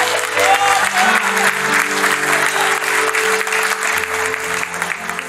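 A church congregation claps together in sustained, dense applause that stays loud and even for several seconds, filling the room. A few voices are faintly audible beneath it.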